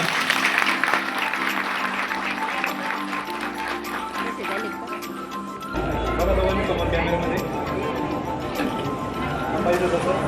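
Guests clap at an engagement ceremony held in a temple, a steady wash of scattered applause that swells in the second half, mixed with voices talking over it.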